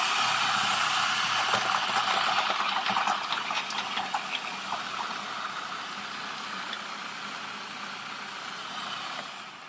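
A Cuisinart FP-13DGM Elemental 13-cup food processor runs on high chopping garlic, a loud, close whirring roar with rattling pieces early on that smooths and eases slightly toward the end.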